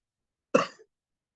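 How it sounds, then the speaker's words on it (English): A single short, dry cough sounds close by, followed by a faint catch of breath, with silence around it. "I've got a bad cough."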